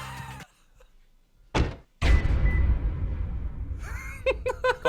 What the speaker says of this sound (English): Close your car door extra hard so he can hear.